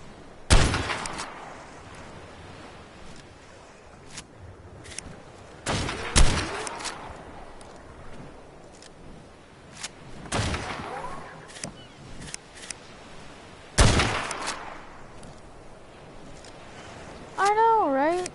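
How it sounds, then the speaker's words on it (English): Gunfire in Ark Survival Evolved as creatures are shot near water, heard as sparse, loud, isolated cracks spaced several seconds apart against a quiet background, with someone talking briefly between shots. "I'll keep on shooting these guys."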